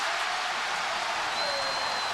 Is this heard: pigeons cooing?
no